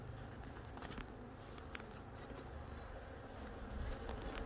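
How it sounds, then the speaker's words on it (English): Honeybees from a hive being checked before winter swarm close around a camera, a faint continuous buzzing with darting bursts as individual bees fly near the lens. "The bees are attacking the camera."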